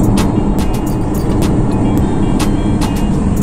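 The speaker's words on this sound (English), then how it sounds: "i'm currently on the n1 the george bush road see very few cars on the road" Cars drive along the N1 George Bush road in Accra, a steady, loud broadband roar of passing traffic with close tyre and engine noise and no voices.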